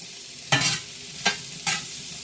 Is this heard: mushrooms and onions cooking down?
yes